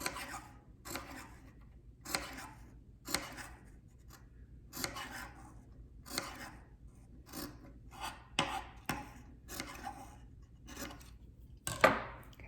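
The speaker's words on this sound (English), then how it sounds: "we're taking our scissors and kind of cutting at an angle to the stitch" Scissors snip through face-mask fabric at an angle to the stitching in a steady rhythm, roughly one crisp cut each second, quiet and close with no talking.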